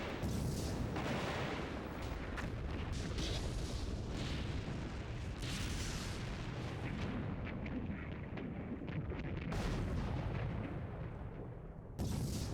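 Explosion sounds from the video game Suikoden IV, a dense, loud rumbling blast texture sustained for about twelve seconds with layered booms, a brief dip near the end before it resumes.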